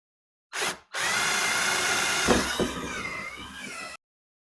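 Power drill boring a single hole through a wooden cabin door beside the lock set, a steady close whine running about three seconds after a brief opening burst.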